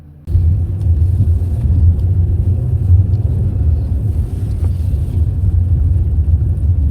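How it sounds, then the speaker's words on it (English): A 2008 Dodge Charger R/T with rear-wheel drive rumbles through snow during a Minnesota blizzard. A loud, steady low engine drone kicks in almost at once and holds, close and continuous, with no speech. "Just playing a little bit out here in the snow in my 2008 Charger RT rear-wheel drive."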